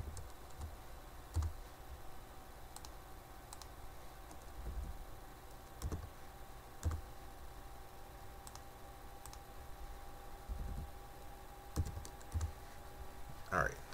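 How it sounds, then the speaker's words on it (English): Keys are typed on a computer keyboard at a desk in bursts of quiet, close clicks with occasional louder taps, over a faint steady hum. "I'm just going to type all this in."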